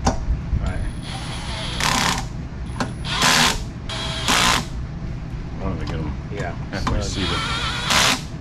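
A power drill drives screws during assembly of a MotoTec Fat Boy Harley-style scooter, sounding in several short, loud whirring bursts separated by pauses, with people talking nearby.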